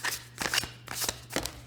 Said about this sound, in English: So we're more than halfway through the shuffle.